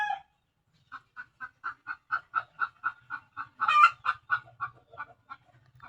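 A chicken gives a long run of evenly spaced, nasal clucking calls, about a dozen in a row, with a louder burst midway and quiet rustling underneath.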